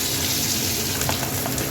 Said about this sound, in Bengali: তেলটা আমার গরম হয়ে গেছে, এবার আমি মাছের মাথাগুলো এক এক করে ছেড়ে দেবো।